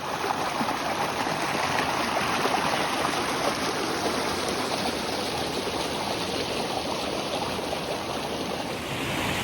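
A river stream on New Zealand's West Coast flows in a steady, loud, continuous rush of water, close by and alone with no voices.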